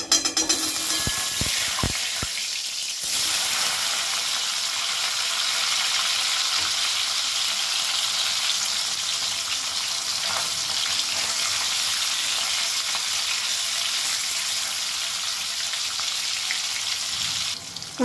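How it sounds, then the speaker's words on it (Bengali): Cubes of paneer sizzling in hot oil and ghee in a kadai, a dense steady fry heard up close, with a few clatters and stirring knocks in the first seconds and then an unbroken crackle with no talk. "এবারে আমি পনিরগুলো একটুখানি লাল লাল করে ভেজে নেব।"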